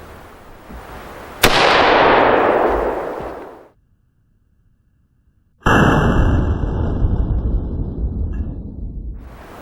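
An AR-15 rifle with a muzzle brake fires Federal Lake City M855 62-grain 5.56 NATO ammunition on an outdoor range, giving two very loud, sharp shots several seconds apart, each followed by a long ringing tail.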